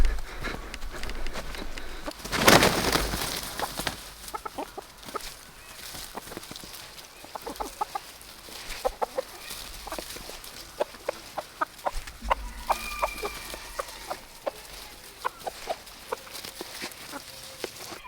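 Chickens cluck and squawk in a farmyard flock, with scattered short calls throughout, a burst of louder flapping or scuffling early on, and occasional footsteps nearby.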